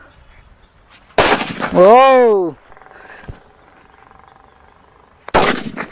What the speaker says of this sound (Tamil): அதை விட பெருசு வெடிச்சு பார்த்தலாம் வாங்க